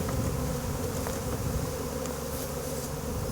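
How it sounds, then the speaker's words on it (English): A swarm of honeybees gives off a dense, continuous buzzing hum, close and steady throughout, with no voices. "But that's the swarm of honeybees."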